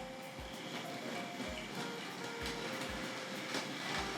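A Tri-ang R.152 diesel shunter model train runs backwards, giving a faint, steady motor whir with regular clicks as the wheels pass rail joints at an even pace.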